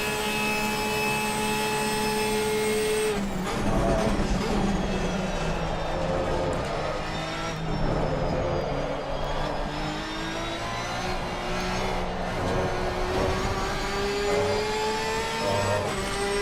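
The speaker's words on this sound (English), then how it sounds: "It sounds faster because the engine's revving a lot higher, right?" A racing car engine in Assetto Corsa Competizione screams at high revs, pitch climbing and dropping through gear changes, continuous and loud with no talking.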